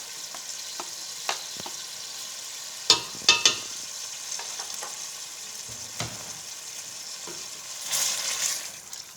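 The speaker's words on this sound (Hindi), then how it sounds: "फ्राई करना हम जारी रखेंगे चिकन को।" Chicken frying in a pan with garlic and ginger for dum biryani, a steady close sizzle broken by a few sharp clinks of a spoon stirring and a brief louder hiss near the end.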